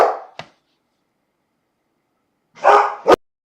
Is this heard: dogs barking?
yes